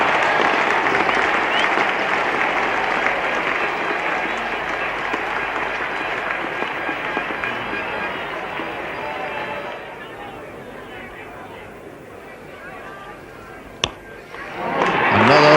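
Spectators at the 1973 West Indies versus England Test at Lord's, West Indian supporters prominent, clap and cheer loudly after a boundary, the noise slowly fading before a sharp knock and a fresh burst, with commentary over it.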